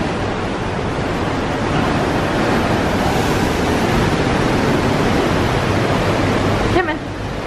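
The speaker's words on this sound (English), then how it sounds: "Look at those waves." Steady broadband roar of ocean surf washing in continuously at Ketchikan, Alaska, loud and close, with a brief rustle near the end.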